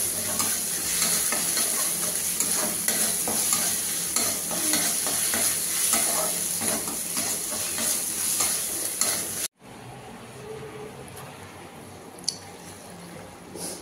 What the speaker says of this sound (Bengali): চলো মশলাটা ভালো করে ভেজে নিই